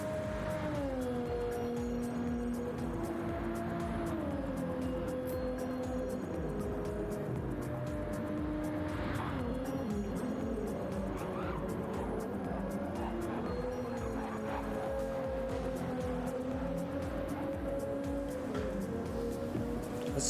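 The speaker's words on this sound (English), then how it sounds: "These Supras sound so good." Toyota Supra race car engines in a racing video game at the Dragon Trail Seaside track drone and rev continuously, pitch rising and falling as gears shift, with several cars layered together at a steady loud level.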